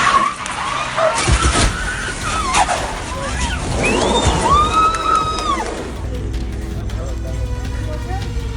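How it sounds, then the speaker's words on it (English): An out-of-control Ford Ranger slams into a parked Ford Mustang, giving a loud impact and crunching clatter near the start, with engine and tire noise, a rising whine and voices over the scene. "a parked Ford Mustang was suddenly struck by an out-of-control Ford Ranger."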